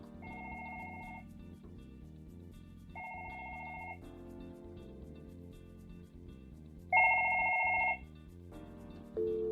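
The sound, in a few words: Fanvil V series desk phone ringing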